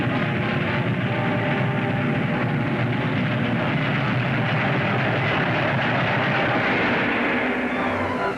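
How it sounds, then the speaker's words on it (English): A train rumbles steadily in a 1953 science-fiction serial, a dense, loud, continuous roar with faint rattling that holds throughout without any speech. "That sounds like a train."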